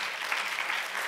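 Applause from the audience for a five-person panel at a customer-experience conference: a brief, dense wash of many hands clapping, steady and moderately distant, with no talk.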